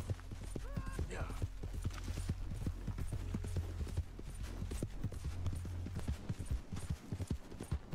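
Horse hooves gallop in a fast, steady clip-clop rhythm in Red Dead Redemption 2, loud and continuous over a low rumble, with a brief voice near the start.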